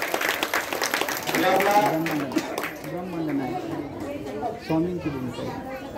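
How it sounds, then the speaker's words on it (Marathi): Applause and cheering from a crowd at a Datta Jayanti festival gathering, with children's voices chattering over it, lively and close, lasting throughout. "त्यांच्या अभिनयासाठी आपण एकदा जोरदार टाळ्या वाजवूया"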